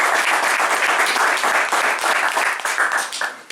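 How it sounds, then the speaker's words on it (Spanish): An audience claps continuously at a live event, a dense steady round of applause that thins slightly toward the end. "Os voy a pedir un aplauso para él porque ha hecho un trabajo."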